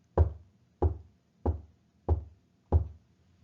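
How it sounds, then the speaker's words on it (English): Five sharp, evenly spaced knocks ring out in a quiet night jungle, each a close, hollow rap with a short decay, with nothing else around them. "he kept hearing a strange knocking sound."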